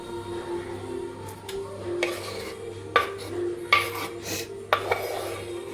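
Chopped onions being stirred and folded into a thick urad dal batter in a bowl, with soft wet scraping and several sharper utensil knocks against the bowl's side, close and alone.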